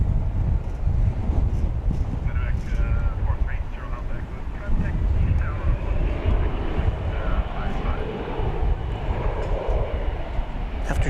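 An airliner taking off from runway 18 left at DFW Airport, a broad, steady jet roar with wind buffeting the microphone, heard at a distance while a person talks over it.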